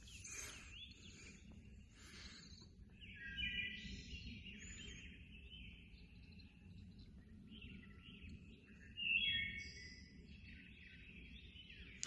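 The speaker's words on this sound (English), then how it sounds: "I just love sitting and listening to the birds in the morning" Several birds, including red-headed woodpeckers, chirp and trill in bursts in a morning garden over a low, steady background rumble, with a couple of louder calls standing out.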